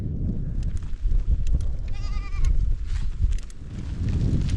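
Goats bleat near herders' tents on the high Pamir Highway, a clear nasal bleat rising mid-clip over heavy wind rumble and outdoor noise, with a few fainter calls around it.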